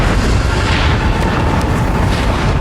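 A nuclear missile explosion in Fallout 76 sends a dense, roaring blast rumble that fills the whole moment, loud and sustained like a long, thundering boom with no pause.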